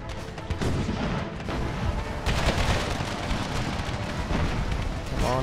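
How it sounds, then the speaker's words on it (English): Horse artillery in the video game Empire: Total War: continuous rumbling battle noise with repeated cannon booms and crackling gunfire, loud and dense throughout without clear pauses. "Horse artillery fire on the center once again."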